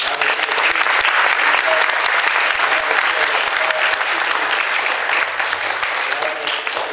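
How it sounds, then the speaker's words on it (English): Parents and teachers at a 2014 school graduation ceremony applaud together in loud, dense, sustained clapping that holds steady for several seconds before easing slightly at the end. "So I'd like to give you guys a round of applause."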